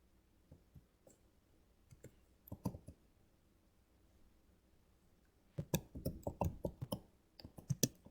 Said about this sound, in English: So we'll type that out.